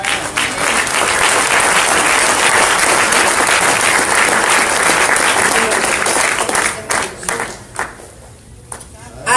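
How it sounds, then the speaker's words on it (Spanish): A church congregation applauds, loud sustained clapping from many hands that thins and trails off near the end, with brief voices mixed in. "Denle un aplauso fuerte al Señor, hermano."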